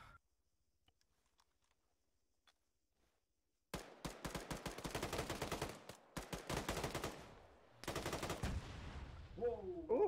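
Rapid gunfire during a PMC operation starts abruptly after a near-silent stretch, then runs in dense, loud bursts with a brief pause before resuming, and a short voice comes in at the end.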